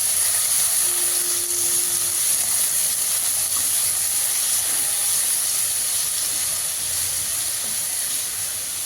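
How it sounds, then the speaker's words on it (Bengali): Yardlong beans with a little salt and turmeric frying in a pan until soft: a steady, dense sizzle and hiss that continues evenly throughout, close and fairly loud, with no talk. "বরবটিগুলো খুব ভালো করে ভেজে নিতে হবে, একদম নরম করে ভাজতে হবে"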